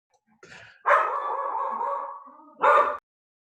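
A dog gives a short yip, then a long drawn-out whining bark and another sharp bark, loud and close against silence.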